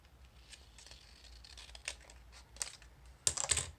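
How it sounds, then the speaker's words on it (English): Polka-dot patterned paper is cut through the middle of its dots in a quiet room. Faint soft rustles lead up to a few crisp, close snips near the end. "we're going to cut it right here through the middle of these dots"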